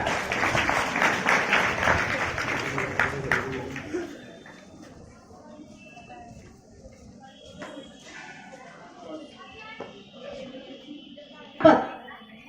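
Applause for a prize winner at a district-level school science event, loud dense clapping mixed with crowd noise for the first few seconds, then fading into a quieter room with scattered murmur and one sharp thump near the end.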